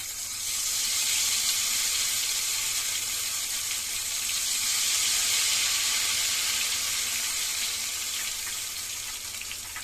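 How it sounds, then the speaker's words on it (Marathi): Ghevar batter poured from a spoon held high into oil heated over a high flame sizzles and bubbles in a continuous close, even hiss with no one talking. "आता हे असा चमच्यामध्ये घ्यायचं आणि ह्या चमच्याने 1 फुटावरून बॅटर टाकायचंय"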